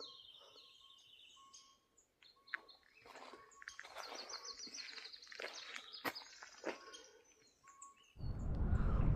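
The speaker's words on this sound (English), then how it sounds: "the birds are really rowdy" Rowdy birds chirp and sing on a morning walk after overnight rain, with many overlapping calls near and far, then a loud rustling burst close by at the end.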